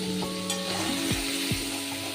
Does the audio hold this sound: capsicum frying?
yes